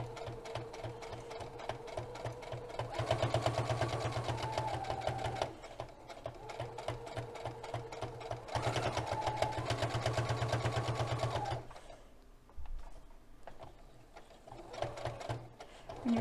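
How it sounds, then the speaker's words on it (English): A sewing machine stitches the seam of a fabric potholder in steady running bursts, pausing briefly as the needle is lowered and the fabric turned, then whirring on again close to the mic. "Down your needle, turn your fabric, and then continue to sew this direction."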